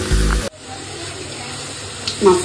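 Onions frying in hot oil with whole cumin and whole dried chillies in a home kitchen, giving a loud steady sizzle that drops after a clatter, then a brief stir near the end.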